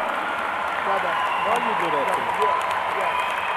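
Community convention audience applauding to welcome Imam Siraj Wahaj, a sustained wash of clapping heard beneath a speaker's voice that continues talking over it throughout.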